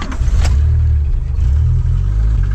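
A Dodge Charger 2.2 engine, bought for $400 and idling high, is revved by blips of the throttle, the engine's loud, steady low rumble filling the whole clip close up, with a brief sharp burst near the start.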